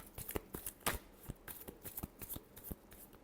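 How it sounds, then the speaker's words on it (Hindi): Tarot cards are shuffled by hand in quick, soft, riffling bursts, a series of close, crisp flutters and slaps with no talking. "Last shuffle."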